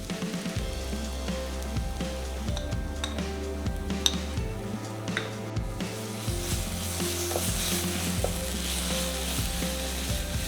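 Ginger garlic paste sautéing over a medium flame in a pan for an Indian crab masala, a steady close sizzle with occasional light clinks of a utensil, continuing evenly with no talking.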